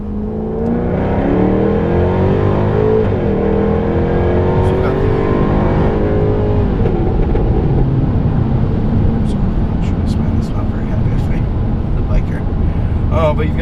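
Engine of a 2016 Jaguar F-Type R AWD coupe while driving, a loud steady rumble rising in pitch as it accelerates, then holding a constant roar, with a voice talking over it throughout.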